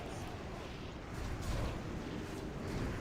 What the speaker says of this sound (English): Banshee's gonna be hit by Arcane Explosion